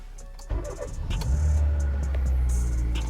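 A Hyundai HB20S with about 68,000 km and an active exhaust valve held closed starts up abruptly, then runs close by with a low, steady engine drone and slight swells in speed, without any voices.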